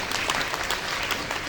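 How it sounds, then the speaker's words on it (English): A university event audience at a community celebration breaks into dense, even applause, many hands clapping at once in a brief, steady burst with no break. "let's give her a huge round of applause"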